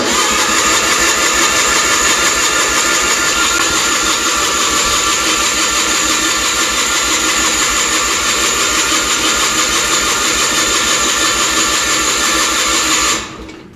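A Miller Trailblazer 250 welder generator's engine catches and runs at a steady, loud mid-pitched drone with a fast even pulse, close up and continuous for over thirteen seconds before cutting off abruptly at the end.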